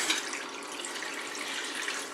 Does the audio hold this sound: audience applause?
no